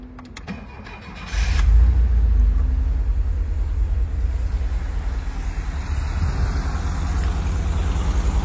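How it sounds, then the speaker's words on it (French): A 1986 VW Transporter T3 with a 2.1-litre engine and its original exhaust starts after a short crank, then settles into a steady, fairly quiet low idle rumble that continues without pause to the end. "Au niveau du bruit, c'est l'échappement origine, hein, donc c'est relativement silencieux."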